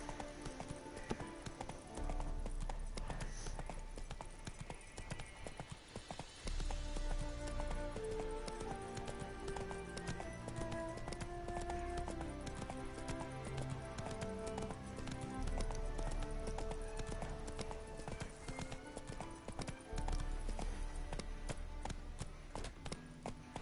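Roach, the horse in a Witcher-style PS4 game, gallops in a long rhythmic run of hoofbeats over a dense game score and ambience, steady and close throughout.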